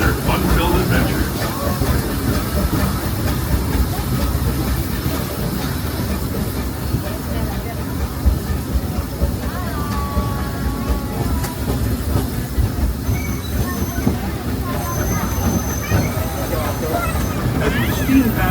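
The Disneyland steam train rolls along its rails past the frontier area, a steady rumble with clickety-clack from the wheels, while a crowd murmurs in the background.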